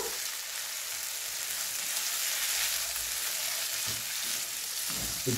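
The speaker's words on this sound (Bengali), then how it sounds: "এবার দিয়ে দেবো খানিকটা টমেটো সস আর একটু পিৎজা পাস্তার সস। এবার সুন্দর করে মিশিয়ে নেব।" Potato pasta is mixed with tomato sauce and pizza pasta sauce in a hot pan, with a dense continuous sizzle and a few soft stirring scrapes near the end.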